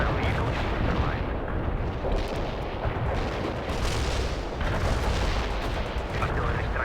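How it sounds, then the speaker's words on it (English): Heavy artillery strike explosions in the World in Conflict battlefield rumble continuously, loud overlapping booms and blasts forming a dense, roaring barrage with no pauses. "Artillery strike success."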